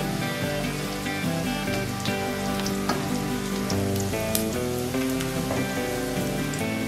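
Sausage slices dropped into a hot frying pan while stir-frying mustard greens, giving a steady, close crackling sizzle with soft music running underneath.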